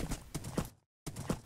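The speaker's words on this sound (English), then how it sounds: "So let's ride the horse and kill." Horse hooves clip-clopping while riding in Minecraft, a quick run of clear rhythmic clops, a brief silent gap, then the steady hoofbeats resume.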